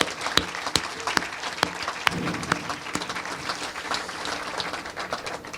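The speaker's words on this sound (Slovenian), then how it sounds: "da si lahko en aplavz damo vsi skupaj za eno odlično prireditev" An audience at a community event in Ormož gives a sustained round of applause, a dense wash of many hands clapping with a few sharper nearby claps standing out, steady and fairly loud throughout.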